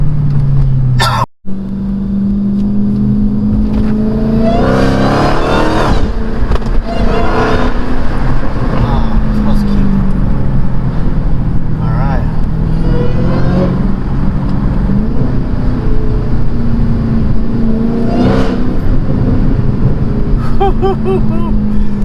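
A supercharged Dodge Challenger Hellcat V8 with an aftermarket intake drones and pulls steadily at about 2,500 RPM in third gear, heard from inside the car, with brief speech mixed in and a steady deep rumble throughout.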